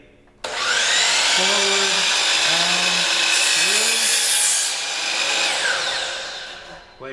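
Compound miter saw cuts through wood: the motor starts abruptly and spins up to a loud, steady whine that dips as the blade bites in, then winds down near the end. A brief spoken word comes just before.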